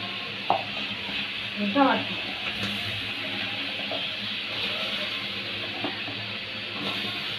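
Eggplant pieces frying in a pan with fish, a low continuous sizzle under occasional stirring and utensil scrapes, with a voice speaking briefly.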